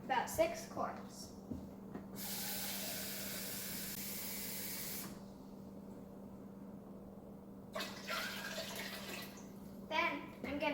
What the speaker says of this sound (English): Next, I'm gonna do the water, about 6 quarts.